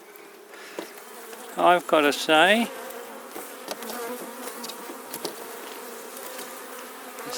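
Honey bees hum at an opened top bar hive, a faint steady buzz running throughout while a person speaks briefly near the start.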